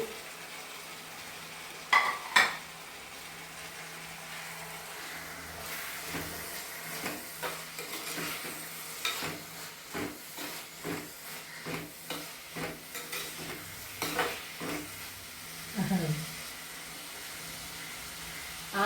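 Small onions fry in a pan, with a soft, low sizzle and repeated stirring scrapes at a fairly even rhythm.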